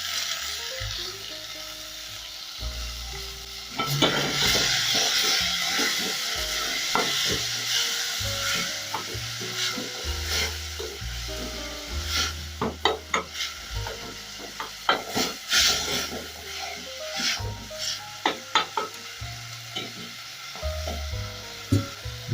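Garlic and tomatoes for a ndengu curry sizzle and hiss in a hot pan, with stirring scrapes and clicks rising in the middle, under quiet background music.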